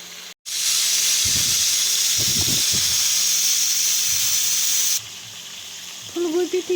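Cauliflower florets hit hot oil in a kadhai and erupt into a loud, steady sizzling hiss that lasts several seconds before easing to a quieter bubble, with a few low knocks and a brief voice near the end.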